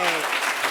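A short burst of audience clapping at an anniversary gala, brief and fairly loud, with some voices or cheering mixed into it.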